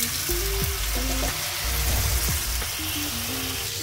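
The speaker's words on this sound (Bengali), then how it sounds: "এখন আমরা এটাকে ভাজবো।" Four pieces of steak, marinated for about an hour, fry in a hot pan with a steady, loud sizzle that fills the whole stretch, with a few faint tonal sounds behind it.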